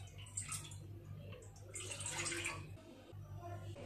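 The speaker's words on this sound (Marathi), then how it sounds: "तर या पातेल्यामध्ये आपण पाणी घालूया." Water splashes into a cooking pot for making rice-flour dough for modak, a soft irregular gushing and pattering heard close by against a low steady hum.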